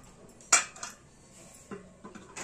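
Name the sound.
lid placed on cooking pot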